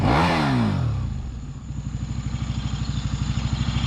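A KTM RC8 sport motorcycle engine revs sharply, then falls back to a fast, lumpy, pulsing idle, close and loud with no speech.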